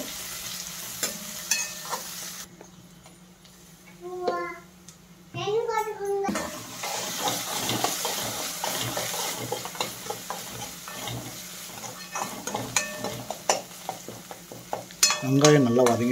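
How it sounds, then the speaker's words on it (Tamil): Chopped onions sauté in a pan until softened, giving a continuous soft sizzle with stirring scrapes. Voices, including a child's, talk intermittently over the cooking. "வெங்காயம் நல்லா வதங்கிடுச்சு ஓரளவுக்கு."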